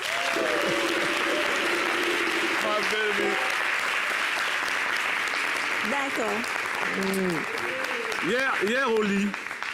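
Applause from a studio audience on a holiday television show, a constant dense patter of clapping running throughout while people speak and a voice sings or calls out over it.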